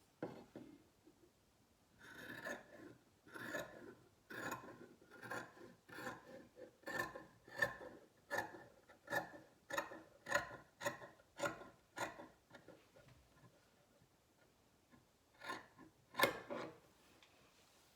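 Scissors trimming the selvage off pillow fabric: a faint, close series of rhythmic crunchy snips, about a dozen in a row, then a pause and a few more cuts.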